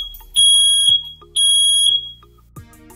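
A Google Nest Protect smoke alarm sounds its test siren: two loud, sustained high-pitched beeps separated by a short gap, with a chime-like tone rising at the end, and no voice over it.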